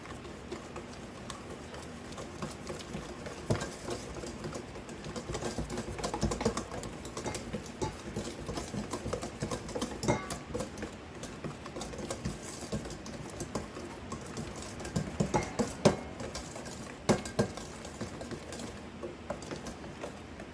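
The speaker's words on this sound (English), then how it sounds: "I have 3 tablespoons of unsalted melted butter, and I'm just going to whisk this in" Melted unsalted butter being whisked into doughnut batter gives a quick, uneven clicking and tapping of the whisk against the bowl, continuing close up and fairly quietly for about twenty seconds.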